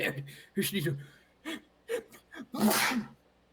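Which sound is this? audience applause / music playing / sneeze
sneeze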